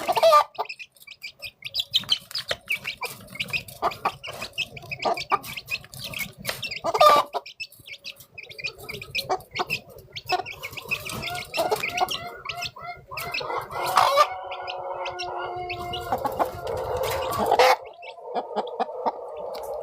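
Backyard chickens cluck and chatter steadily while being fed at home, close and busy, with scattered pecking and rustling and a louder flurry of clucks toward the end.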